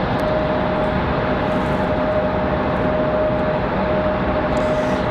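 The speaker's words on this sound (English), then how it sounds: "United 1502, 737 MAX 9, coming in from Chicago O'Hare." A United Boeing 737 MAX 9 airliner arriving at Raleigh-Durham International from Chicago O'Hare, heard as a steady, loud broadband jet roar with a faint whine that holds unchanged throughout, with no talk.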